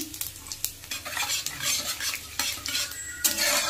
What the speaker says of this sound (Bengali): একটা ফোড়নে শুকনো লঙ্কা দিলাম, সাথে অল্প করে রাঁধুনি দিলাম আর অল্প কালো জিরে দিয়ে দিলাম